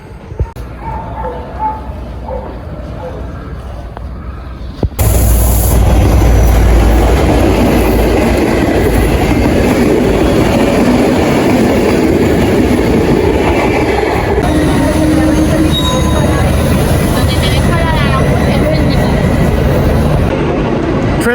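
Commuter train ride from Pinto into central Madrid: a quiet interior gives way after about five seconds to a loud, steady rumble and rush of the moving carriage that carries on continuously to the end.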